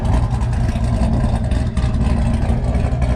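Chevrolet Camaro SS engine running steadily, a loud, dense low rumble filling the clip throughout with slight fluctuations and no talking.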